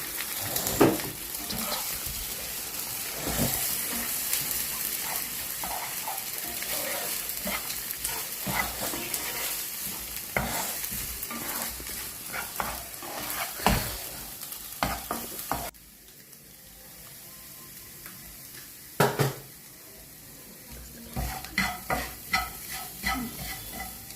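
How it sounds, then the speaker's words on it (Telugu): Eggs fry and get stirred in a pan for homemade egg rice, with a steady close sizzle broken by repeated scraping and stirring. There is a brief quieter stretch, then the clatter of the utensil picks up again. "దానిలో 2 ఎగ్స్ వేసుకోవాలి. ఎగ్స్ వేసిన తర్వాత కొంచెం చేసి తిప్పాలి."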